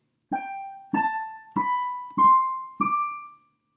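Five separate piano notes of a five-finger scale step upward one after another at an even pace, each ringing briefly before the next, played alone.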